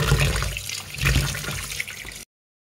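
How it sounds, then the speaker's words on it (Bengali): Water runs from a tap as raw mutton is washed in a kitchen sink, a close, splashy gush with uneven surges for about two seconds before it stops abruptly. "তো ভালো করে আমি মাটনটাকে ধুয়ে নেব প্রথমে।"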